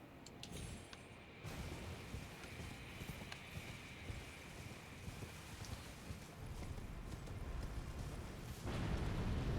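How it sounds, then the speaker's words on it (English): Hooves of a fast horse clip-clopping steadily through a modded fantasy video game, a continuous rapid rhythm over a busy game soundscape that swells louder near the end. "Damn, dude, this horse is so fast."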